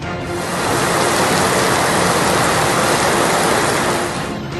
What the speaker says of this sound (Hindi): मां के दरबार पर जबरदस्त बरसात।